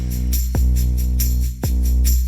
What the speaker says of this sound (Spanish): Hay otro bajo 808 que suena así.